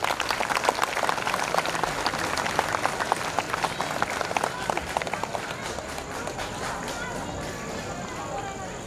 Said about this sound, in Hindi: एक बार फिर सारे टीचर्स के लिए जोरदार तालियां हो